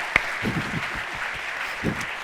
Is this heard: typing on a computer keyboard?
no